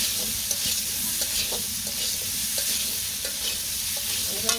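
Sautéed potatoes sizzle in a pot as water goes in, a dense steady hiss close up with light clicks of a spoon and occasional small knocks.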